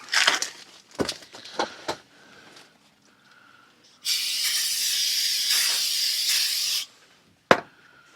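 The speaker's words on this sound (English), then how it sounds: "We're going to wipe these down, put some brake parts cleaner, and all this stuff here." Brake parts cleaner sprays in one long, loud continuous hiss of about three seconds onto brake parts from a 1998 Mercedes-Benz C230, after a few brief clanks and handling knocks, with one short spray burst near the end.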